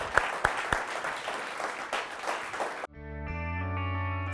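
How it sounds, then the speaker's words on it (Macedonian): A studio audience claps for a guest, a few sharp claps rising into sustained applause for about three seconds, then cut off abruptly as a sustained music chord takes over. "Аплауз за Даниел"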